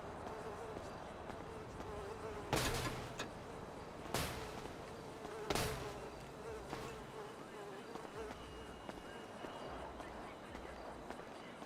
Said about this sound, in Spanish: Que trae a las moscas todas a la entrada de la pizzería.